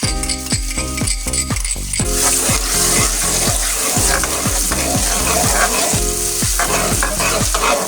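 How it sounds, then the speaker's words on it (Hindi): A medium onion frying in a quarter cup of oil in a kadhai, with a loud steady sizzle throughout and repeated clinking scrapes of a spoon stirring against the metal, heard close up without talking. "कढ़ाई में हमने 1/4 कप ऑयल डाल लिया है। अब इसमें हम शामिल करेंगे एक मीडियम साइज़ की प्याज।"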